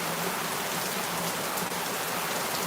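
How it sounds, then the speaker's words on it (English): Heavy rain pours down in a dense, steady downpour, a loud unbroken hiss of drops hitting surfaces close by, with no talking. "It's downpouring."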